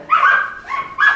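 Puppies barking in the background of an indoor interview, three short yelping barks in quick succession, fairly loud and close, with no talk over them.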